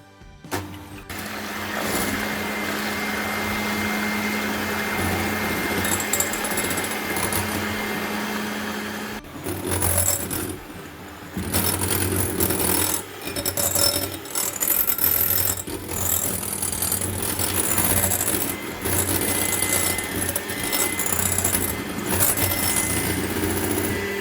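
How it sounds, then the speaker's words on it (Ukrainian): An electric hand mixer whips egg whites to stiff peaks for a Lviv-style cheesecake, a steady high motor whine that runs continuously, then turns choppier with varying pitch as the beaters move through the bowl. "беремо наші білки та звиваємо до пишних білих піків"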